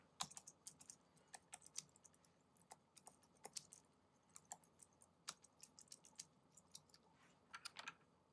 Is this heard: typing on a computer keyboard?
yes